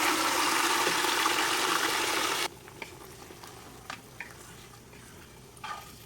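Chicken drops into hot ghee with whole spices for a biryani, setting off a loud, dense sizzle that roars for about two seconds, then cuts off abruptly to a faint background with occasional soft clinks.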